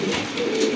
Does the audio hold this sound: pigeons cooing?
yes